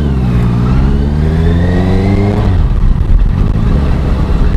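Honda CBR 650F inline-four motorcycle being ridden, its engine revving up through rising harmonics, then easing off as the pitch drops into a rougher, rumbling idle-like burble, loud and close throughout with no talking.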